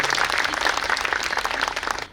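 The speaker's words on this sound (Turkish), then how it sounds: "Öncelikle alkışlayalım Sayın Başkanımızı." A crowd gathered with Mayor Fatma Şahin and high-scoring university exam students applauds her, a brief, close, dense burst of many hands clapping that stays loud before cutting off.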